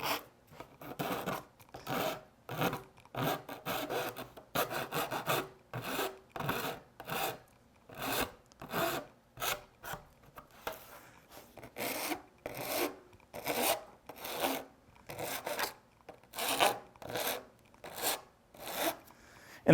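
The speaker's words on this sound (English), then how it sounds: "we have to radius these and then deburr them" Polycarbonate panel edges are radiused and deburred by hand, a long run of rhythmic rasping file strokes, close and steady, roughly one stroke every half second with brief pauses.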